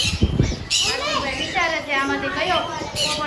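A parrot at a bird market in Navsari Bazar, Surat, gives a harsh squawk among repeated raspy calls, heard close and loud alongside people talking nearby.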